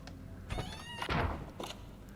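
In the Westworld Awakening VR game, a door swings shut on its own with a creaking groan and a thudding close, fairly close and moderately loud over a quiet ambient background.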